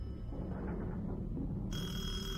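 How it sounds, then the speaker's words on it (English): A telephone rings in the horror video game Detention. The ring comes as a continuous shrill electronic tone that grows abruptly louder partway through, over a dense low ambient drone. "Okay, it's still ringing, but now louder, which is even more annoying."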